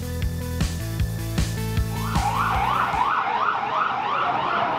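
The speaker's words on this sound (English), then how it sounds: "whenever I hear a siren, I'd run up to the window" Emergency vehicle siren, a loud repeated rising and falling wail kicking in partway through after a run of sharp rhythmic tones, close and prominent with no talking.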